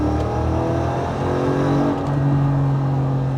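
A Mercedes-Benz W463 G55 AMG Kompressor accelerates hard, its supercharged engine droning loud and steady from close by with a rising tone and no speech over it.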